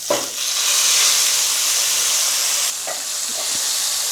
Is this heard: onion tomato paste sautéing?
yes